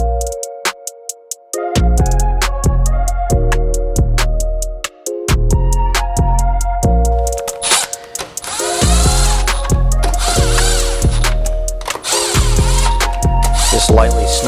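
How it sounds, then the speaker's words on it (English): A power tool runs in a series of short, loud, whirring bursts with brief pauses between them as it lightly snugs down the engine case bolts on a TRX450 engine during a bottom-end build. "Just lightly snugging these down."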